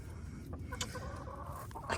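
Backyard hens cluck in short, uneven bursts close by, a soft chatter of several birds at fairly low volume with no talking over it.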